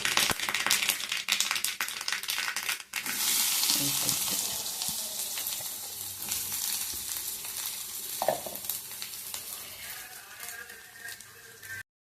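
Chopped garlic and shallots sizzle and crackle in hot oil with mustard seeds, a loud, steady frying hiss punctuated by stirring scrapes and popping.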